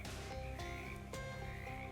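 Frogs croaking in the swamp of the video game Shadows over Loathing, a few low, quiet croaks over a steady ambient background with no speech.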